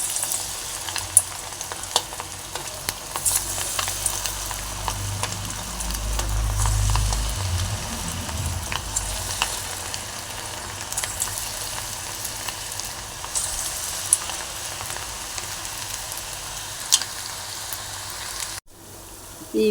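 Cauliflower pakodas deep-fry in hot oil, giving a dense, continuous bubbling crackle with scattered sharp pops, close and steady throughout, with a brief low rumble midway and a short break near the end.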